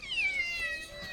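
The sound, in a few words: cat meowing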